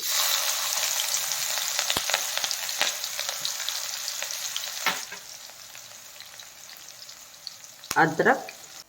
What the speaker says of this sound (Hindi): कढ़ाई में डाल रही हूँ हरी मिर्च